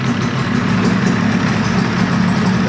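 A rebuilt Yamaha RD 350 two-stroke motorcycle idles steadily and close by, with a continuous low engine drone throughout and no talk.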